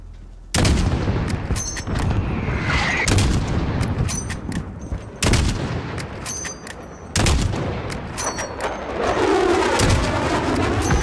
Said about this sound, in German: Jetzt haben die schon wieder einen Mörser.